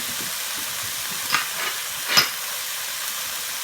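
Curry ingredients and spices, including mango powder, coriander powder and turmeric, sizzling in a pan with okra while being stirred, a steady frying hiss with a couple of brief louder spits.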